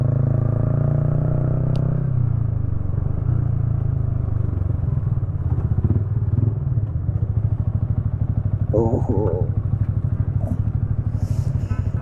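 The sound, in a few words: Yamaha R15 V3 motorcycle riding on highway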